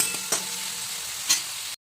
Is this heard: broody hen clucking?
no